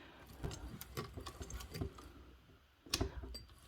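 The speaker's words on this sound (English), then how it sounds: "we are top stitching this with a 1/8 seam allowance" A sewing machine top stitches a backpack strap with a 1/8-inch seam allowance, giving a quiet run of rapid ticking stitches that pauses briefly, then starts again with a slightly louder burst.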